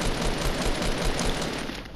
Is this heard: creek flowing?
no